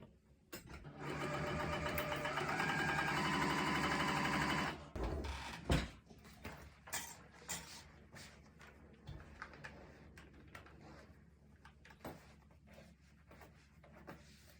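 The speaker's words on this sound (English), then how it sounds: "Now I'm gonna sew right on that stitching line." A sewing machine stitches shapeshifter vinyl for a zipper case, running in one steady, close whir for about four seconds before stopping, followed by scattered clicks and handling rustles.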